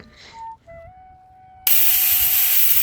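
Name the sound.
pressure cooker whistle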